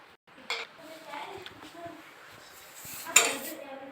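Metal pots and utensils clink and clatter in a home kitchen as a child makes buttermilk, with a couple of sharp knocks over soft background voices.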